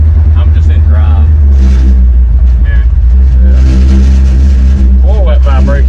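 A Ford F100 truck driving with loud, droning mufflers, the engine rumbling steadily and revving close up while someone talks over it.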